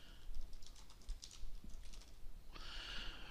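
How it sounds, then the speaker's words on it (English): Soft keystrokes tap on a computer keyboard in a quiet room, a short irregular burst of clicks at low volume, ending in a brief brighter rattle. "and then just type your name."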